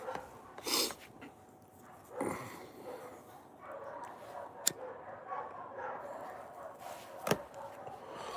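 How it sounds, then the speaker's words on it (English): Dogs barking at night, scattered distant barks and yips rising in short bursts over a faint background hum, with a few sharp nearer knocks. "You guys hear those damn dogs?"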